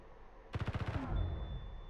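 A rapid burst of about eight shots fires at a turret in Space Engineers, crisp and evenly spaced. A rumbling, muffled impact follows and trails off.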